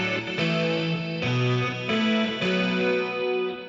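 An electric guitar played through a Dumble amplifier, likened to a very high-powered twin, gives a dirty, slightly distorted rhythm tone, with sustained chords changing every second or so, loud and alone.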